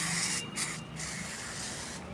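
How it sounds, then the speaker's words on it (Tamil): A hand sprayer hisses neem oil solution onto a guava plant in steady, fairly close bursts, with two brief pauses between sprays. "வேப்பெண்ணெய் கரைசலை ஸ்ப்ரே பண்ணிடுங்க"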